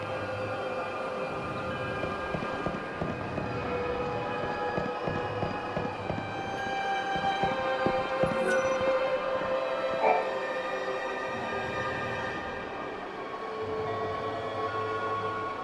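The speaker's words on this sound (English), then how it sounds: "The trains stopping at this station carry people and bring goods from Yusnan." A train rumbling at a station in the video game Lightning Returns: Final Fantasy XIII, a continuous rolling clatter with a tonal hum over it, steady and fairly loud throughout with a brief chime in the middle.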